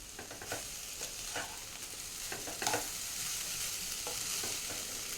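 A home-cooked mixture sizzles quietly in a pan while a utensil stirs it, producing a run of light scrapes and taps over a low, steady frying hiss.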